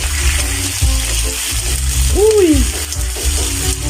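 Shrimp sizzle and fry in a pan with a steady, loud crackling hiss. A brief exclamation and a short whistling tone cut through partway.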